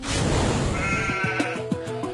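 Goats in a farm shed housing many breeds bleat repeatedly, several short calls overlapping near the microphone over a busy background.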